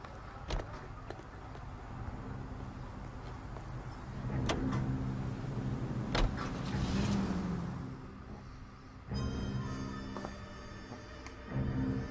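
Car driving in L.A. Noire, with a steady low engine rumble and road noise running throughout, short door-like clunks and brief mechanical whirs, and some faint background game sounds.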